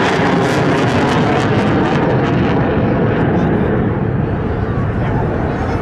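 A Polish Air Force Sukhoi Su-22M4 swing-wing jet at the Malbork Open Air Day 2017 air show, wings swept to 63 degrees: a loud, broad roar that slowly fades, with an announcer talking over it.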